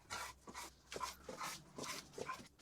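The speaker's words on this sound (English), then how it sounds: "I can't hear you with the dogs" Several dogs barking, whimpering and panting close by, in short bursts repeating about every half second, fairly faint overall and with no human speech.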